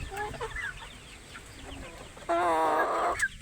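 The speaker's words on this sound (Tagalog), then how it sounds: "Yan kasi mga sisiw na yan oh." Pet chicks and hens cluck and peep at snack time, scattered soft clucks giving way to a loud, sustained nearby squawk toward the end.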